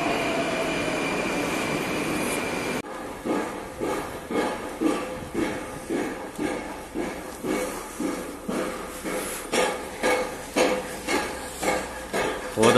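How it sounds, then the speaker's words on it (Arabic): A Moscow metro train pulls into a station, a steady roar giving way to rhythmic wheel clatter over rail joints that repeats and quickens toward the end, loud and close, with no talk. "في مترو جاي اهو."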